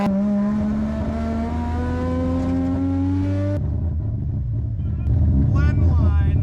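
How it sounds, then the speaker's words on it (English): A car accelerates hard on a race track lap after an ECU swap, its engine note climbing steadily and loud up through a gear, then dropping at a shift before pulling again, with voices faintly over it. "I'm gonna do kind of like a flying lap where I just gun it."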